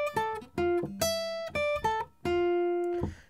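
Guitar plays a song's saxophone melody on the high strings: a short phrase of about eight clean, sustained notes with slides, ringing out at moderate volume without any talk.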